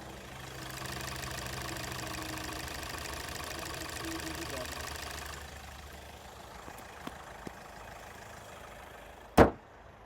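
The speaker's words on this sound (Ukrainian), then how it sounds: "послухаємо, як працює мотор в даному автомобілі" A 2014 Kia Sportage with a 1.7 diesel engine idles with a steady mid-pitched drone at close range, then the engine noise drops away, leaving a few soft clicks and a sharp thump like a door closing.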